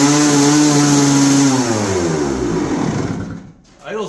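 A freshly rebuilt 1996 Suzuki RMX250 two-stroke dirt bike engine runs loud and close at a high, fast idle with a steady buzzing drone, then drops off near the end, where a voice briefly speaks.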